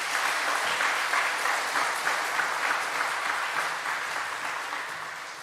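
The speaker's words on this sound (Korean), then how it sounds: "하나님께 영광의 박수" A congregation claps to give glory to God at a dawn prayer revival service in a church, steady dense applause that slowly tapers off over a few seconds.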